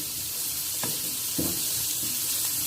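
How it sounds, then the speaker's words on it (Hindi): Onions cooking in a pan until transparent for chicken cheese samosas give off a steady soft sizzle, with a few brief stirring scrapes over a constant hiss and no voices. "प्याज को हम इतना पकाएंगे कि ये ट्रांसपेरेंट हो जाए, ब्राउन नहीं करना हमने"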